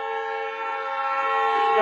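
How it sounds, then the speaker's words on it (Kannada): A MEMU express electric train on the Bangalore to Tumkur line sounds a sustained, steady horn tone that holds for the whole moment, growing slightly louder toward the end, with no talk. "ಟ್ರೈನ್ ಡಿಪಾರ್ಟ್ ಆಗ್ತಿದೆ"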